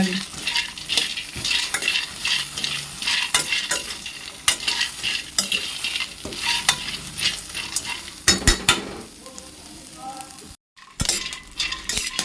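Moong and sorghum grains dry-roasting in a pan, a steady rattling scrape of a spatula stirring them with dense dry crackle and occasional metallic clinks, close and continuous with no voices.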